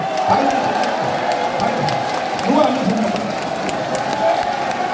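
Crowd at a Korean political party rally cheering and applauding in a standing ovation, a dense steady roar of voices and clapping throughout, with a voice briefly speaking over it.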